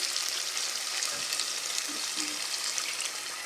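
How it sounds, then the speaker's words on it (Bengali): Hot frying pan hissing and sizzling steadily as water hits it while cooking beef curry, a bright continuous crackle close by, with a faint murmur underneath. "ফ্রাই প্যানে একটু ধুয়ে পানি দিচ্ছি"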